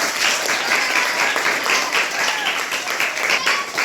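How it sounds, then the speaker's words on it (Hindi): A crowd of students claps loudly for the children at a Children's Day celebration, a sustained, even wash of applause with some crowd murmur beneath it. "बच्चों के लिए एक बार जोरदार तालियां बजाएंगे।"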